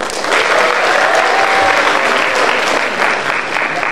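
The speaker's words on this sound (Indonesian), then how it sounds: "beri tepuk tangan yang paling meriah untuk narasumber kita, Bapak Deddy Mahardi" Loud, dense applause fills a hall at a public lecture and book discussion as the audience welcomes guest speaker Bapak Deddy Mahardi, the clapping steady and unbroken from start to finish.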